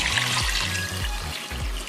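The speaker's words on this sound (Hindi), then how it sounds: "गोश्त को आप अच्छी तरह से वॉश कर लीजिए" Meat for Afghani pulao is rinsed under a running kitchen tap, a steady close splash and trickle of water with faint low clunks, no talk.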